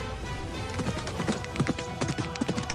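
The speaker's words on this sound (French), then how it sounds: "Puis il partit au galop à la vitesse de l'éclair." Rapid, irregular hoofbeats of a galloping horse, loud and close, with sharp clip-clop strikes over a busy rumbling background and no talk.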